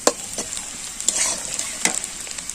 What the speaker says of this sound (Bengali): এখানে রসুন আর তেলের মধ্যে পেঁয়াজ ভাজা হচ্ছে